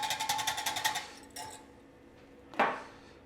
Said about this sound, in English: Whisk again quickly.